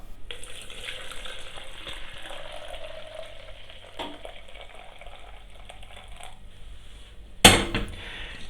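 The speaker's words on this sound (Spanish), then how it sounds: "Colocamos medio litro de agua." Half a litre of hot water, about 60 degrees and not boiling, poured into gelatin for a neutral gelatin preparation, heard as a steady splashing pour with bubbly sizzle-like hiss that ends in a brief louder clatter.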